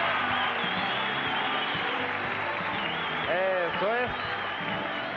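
Studio audience on a Sunday dance contest show applauding to welcome the contestants, a steady crowd wash with a host speaking over it.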